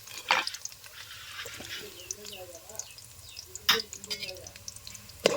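Chicken frying in oil in a pot on a wood-fired stove for tandoori biryani, a light bubbling sizzle with a few sharp utensil knocks, while someone speaks over it.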